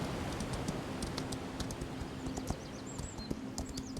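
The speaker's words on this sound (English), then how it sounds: "my horse is just running off into the distance there" Horse hooves clip-clopping in quick succession in the Equinox Homecoming video game, a steady patter of light thuds at mid distance, with faint bird chirps over it.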